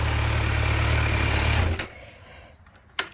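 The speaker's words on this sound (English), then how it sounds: "let me go ahead and turn off the bike since it's already been idling for about 5 minutes anyway" Idling 2020 Kawasaki Z900 motorcycle engine, a steady close low rumble that cuts out partway as the bike is switched off, leaving quiet room tone and a brief click.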